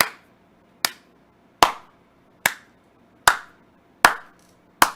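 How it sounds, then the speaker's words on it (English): A single person claps slowly, seven sharp, evenly spaced hand claps about a second apart, each crisp and close, with quiet gaps between. "Duck lip, slow clap."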